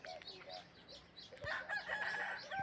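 Rooster crowing amid clucking fowl where fighting chickens are kept, several drawn-out crows overlapping, moderately near, with busier calls and bird noise building in the second half.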